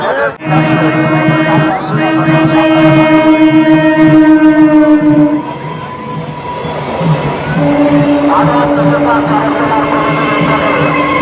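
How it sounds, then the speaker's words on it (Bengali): Up and down trains pass each other at a railway level crossing, heard as a loud, sustained tonal horn-like drone with steady rail rumble that dips briefly midway and then returns. "দুই দিক থেকে আপ এবং ডাউন দুটি ট্রেন সেই সময় পাশ করে"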